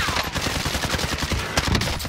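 Rapid bursts of gunfire from a battle royale video game, loud and close, a dense string of overlapping shots running throughout with no talk.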